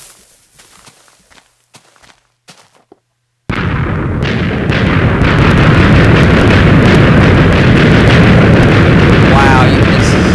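Chained explosions in Minecraft set off inside a biodome: after a few scattered footstep-like taps and a pause, a sustained loud roaring barrage of overlapping blasts and crackling bursts fills the rest, dense and continuous.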